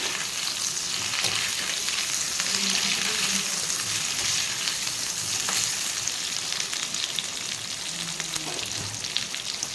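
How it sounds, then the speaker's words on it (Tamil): Potatoes frying in oil while being stirred, a continuous loud sizzle with a soft scraping of the spoon and occasional crackles, and no voices. "இந்த எண்ணெயிலேயே இந்த உருளைக்கிழங்கை அப்படியே நல்லா பரட்டி விட்டுக்கலாம்."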